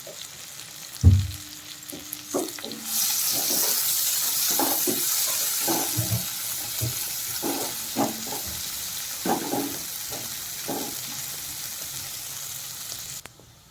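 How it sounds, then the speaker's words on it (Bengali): Onions fry in hot oil for a Bengali rohu fish curry with potato and cauliflower, a steady close sizzle broken by the clatter of stirring, running alone without talk. "পেঁয়াজগুলো আমি একটু লাল লাল করে ভেজে নেব যতক্ষণ পর্যন্ত না লাল কালারটা আসছে।"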